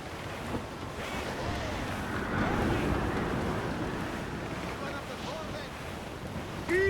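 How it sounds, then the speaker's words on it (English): Strong wind and rolling ocean waves at sea aboard a sailing ship in Assassin's Creed 4 Black Flag, a steady loud rushing roar with surging swells, and a shouted voice over the din. "Wind is shaping up for a big blow, sir!"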